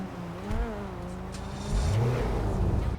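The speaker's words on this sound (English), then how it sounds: "Let's listen to the startup." Engine startup of a Legendary Motorsport car in the video game GTA 5 Online: a starter catch, then a loud engine settling into a rising, revving roar, heard alone without talk.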